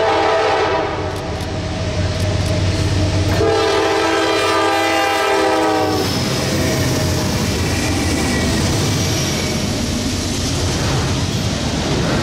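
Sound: westbound intermodal train passing with horn

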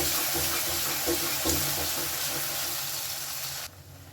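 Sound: pouring mixer rinse water into the pan

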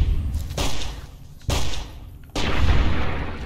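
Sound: gunfire from a gun in the video game Fallout New Vegas

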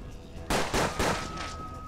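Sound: gunfire from a revolver in the video game Hard West

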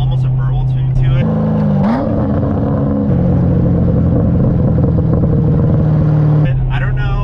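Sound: Corvette V8 engine exhaust burble

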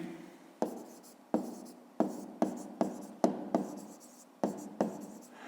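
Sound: handwriting on paper

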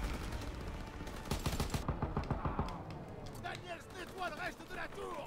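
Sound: gunfire in video game Call of Duty WW2

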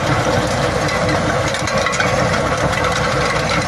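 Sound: tractor running a New Holland 195 manure spreader

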